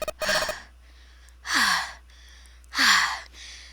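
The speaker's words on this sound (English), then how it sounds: "Lots of panting." Three heavy, breathy panting gasps from a character in the video game 999: 9 Hours, 9 Persons, 9 Doors, spaced about a second apart with quiet between, close and fairly loud.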